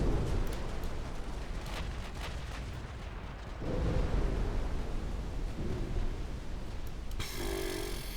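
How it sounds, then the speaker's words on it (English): A torpedo striking a warship in the naval game Ultimate Admiral Dreadnoughts gives a heavy, rumbling blast, a loud continuous roar of deep booms and crackle that swells midway and carries on for several seconds. "Ah, hit by a torpedo."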